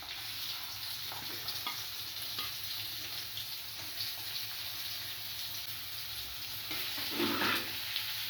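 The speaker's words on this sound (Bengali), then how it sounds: "এবার পেঁয়াজের বেরেস্তা ভেজে নিচ্ছি।" Sliced onions deep-fry in hot oil for biryani, making a steady close sizzle and bubbling with a few light stirring scrapes over it, and no voices.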